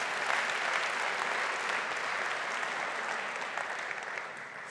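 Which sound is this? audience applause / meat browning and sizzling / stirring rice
audience applause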